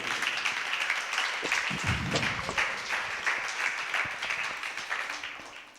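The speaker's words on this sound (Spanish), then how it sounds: "Vamos a dar un aplauso a Jesucristo." A church congregation gives a round of applause during a sermon, steady mixed clapping with a brief low rumble partway through, filling the room at moderate volume.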